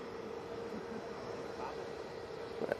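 An Easyjet airliner taxis at Manchester Airport, its engines a steady, fairly distant drone with a faint rise near the end.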